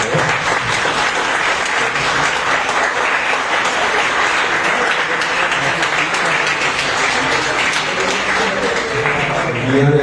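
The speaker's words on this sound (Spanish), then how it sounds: "dense un fuerte aplauso para ustedes, por favor." Loud, sustained applause from an audience honoring engineering graduates, dense clapping that fills the whole stretch evenly without pause.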